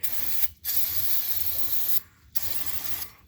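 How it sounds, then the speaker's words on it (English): Brake cleaner sprayed from an aerosol can over a part of a John Deere 4010 pulling tractor, in two long hissing bursts with short breaks between them, close and steady and with no talk. "we're going to take some brake cleaner and just kind of coat this whole surface here"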